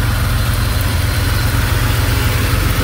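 A 1990 Porsche 911 Targa 964 C2 with G50 gearbox and 74k miles idles steadily, a loud, close, even engine burble with no talking.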